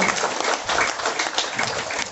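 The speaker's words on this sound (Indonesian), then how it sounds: "Beri tepukan bagi pengantin perempuan" Wedding guests applaud the bride after the vows, a brisk, close burst of many hands clapping together for a couple of seconds.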